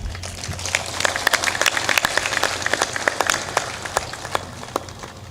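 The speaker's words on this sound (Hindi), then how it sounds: "ताली बजाने की बात है तो जोरदार ताली भी बजा दो।" A religious discourse audience claps at a devotional gathering, producing a steady patter of scattered hand claps with sharper individual slaps throughout, moderately loud over a low background hum, with no talking.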